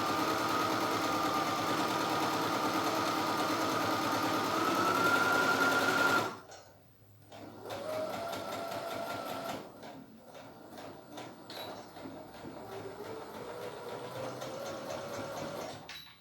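A sewing machine stitching fabric, with backstitching to start and finish the seam: a steady close mechanical whir that stops abruptly, then resumes in shorter runs of stitching with no talking.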